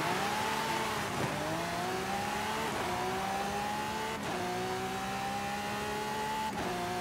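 A drag car launching and accelerating hard in Forza Horizon 5, a loud engine whine climbing in pitch through successive gears, each shift marked by a brief break before the roar rises again.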